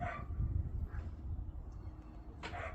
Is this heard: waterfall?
no